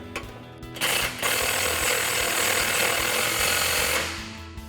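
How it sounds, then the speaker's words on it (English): A power tool spins down a nut on a bolt during a coil-over suspension install on a 2011-2023 Dodge Challenger, giving one loud, continuous buzzing rattle that lasts about three seconds and then fades. "go ahead and reinstall your nut and tighten that back down."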